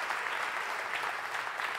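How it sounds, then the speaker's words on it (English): Audience applause at a church gathering with a guest speaker, a dense, even patter of clapping that holds steady at a moderate distance with no voices over it. "if we're gonna clap, let's do it well."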